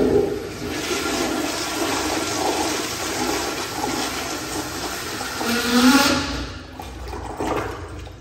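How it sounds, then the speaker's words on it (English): An American Standard toilet flushes in a men's restroom, a loud continuous rush of swirling water that builds, surges near the end, then drains away, with no talking. "Great flush."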